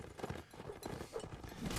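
A horse gallops in Mount and Blade Warband, with rapid hoof clip-clops across a busy, noisy battlefield, faint and mixed with other game sounds.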